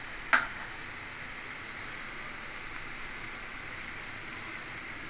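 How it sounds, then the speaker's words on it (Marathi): Raw tomatoes land in a pan of softened frying onions with a sharp brief hit, then a soft, even sizzle hisses steadily on its own. "आता आपण टोमॅटो ॲड करूया या भाजीला"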